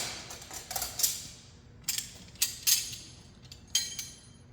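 Tekton wrenches handled and ratcheted, giving a series of light metallic clicks and clacks in short irregular bursts, fairly faint and close, with no talking.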